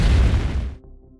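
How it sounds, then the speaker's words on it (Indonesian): A massive explosion at a military laboratory in a zombie film roars with a dense, rumbling blast that fades quickly, leaving quiet crackling debris afterward. "tiba-tiba terjadi sebuah ledakan dahsyat yang mengguncang kota."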